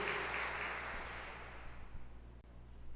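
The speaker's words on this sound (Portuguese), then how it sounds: "A igreja que crê diz amém e glorifica com palmas ao Senhor" Church congregation clapping at an evening celebration service, a dense wash of applause from many hands that fades gradually over a few seconds, with faint room hum underneath.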